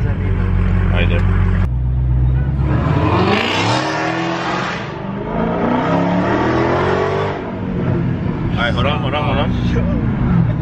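Dodge Hellcat engine revving and accelerating loudly up close, the roar rising in pitch and surging in waves, with people talking over it inside the car.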